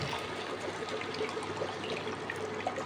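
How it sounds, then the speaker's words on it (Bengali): Water pours steadily from a cup into a cooking pot of lentil dal, a close, continuous trickling splash with no talk over it. "এবার দিয়ে দেবো জল।"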